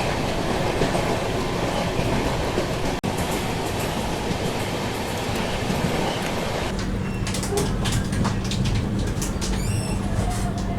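The Vaishali Express runs on its rails near Muzaffarpur Junction in Bihar with a loud, steady rumble and rattle of the carriages that carries on throughout, and birds chirp faintly in the later part.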